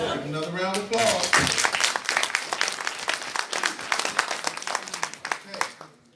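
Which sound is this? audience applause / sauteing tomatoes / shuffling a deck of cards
audience applause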